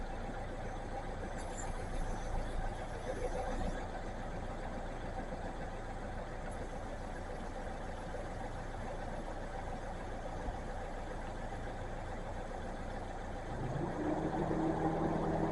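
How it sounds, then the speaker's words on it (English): A Subaru idles with a steady low engine drone, and near the end a deeper hum swells in as the car's A/C compressor kicks on. "I just heard the AC compressor kick on."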